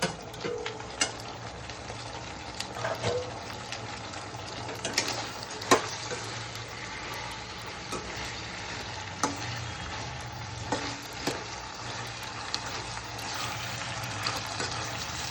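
Fried cauliflower pieces tossed into a hot pan for gobi manchurian, with a steady close sizzle and irregular spatula scrapes and knocks as they are stirred, and no talking.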